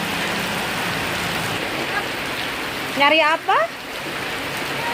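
Steady rain hisses down outdoors in a town where children are out hunting eels in the downpour, with a short spoken exchange rising over the wash of falling water.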